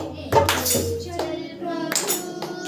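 A church congregation claps their hands during a Hindi Christian prayer meeting, a dense burst of applause followed by a further wave as music with sustained tones plays underneath.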